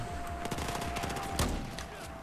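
Shotgun fire in the video game Battlefield 4, a quick string of repeated blasts from a battle at moderate distance, with one heavier shot partway through.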